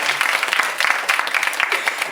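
A crowd applauds steadily, dense clapping filling the whole moment at close range.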